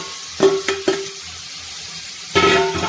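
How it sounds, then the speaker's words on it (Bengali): Marinated chicken goes into hot masala in a pan, with a short burst of sizzling and clattering stirring, a brief lull, then another crackling sizzle as the pieces are moved around. "আমি এবার ম্যারিনেট করা মাংসটা এর মধ্যে দিয়ে দিচ্ছি।"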